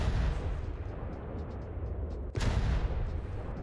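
A naval gun booms once in From The Depths, a single loud shot with a sharp onset about two-thirds through, set against a dense low rumble of battle noise.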